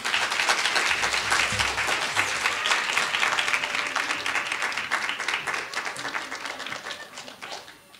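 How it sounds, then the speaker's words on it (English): Audience applause at a poetry reading welcomes the guests, a dense, steady clapping from a sizable crowd that holds for several seconds before thinning out at the end. "let's welcome our guests with a round of applause"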